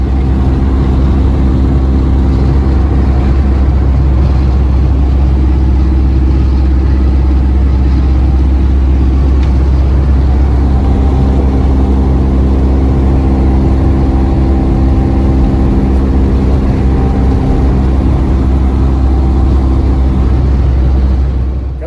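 Heavy low engine drone from a vehicle delivering a dump truck on a village road, loud and steady for the whole stretch with a constant deep rumble and no talk.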